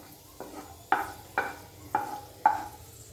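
Raisins are warmed in a pan over a low flame: five soft, evenly spaced scrapes and light clinks from stirring, with a faint sizzle under each one in a quiet kitchen.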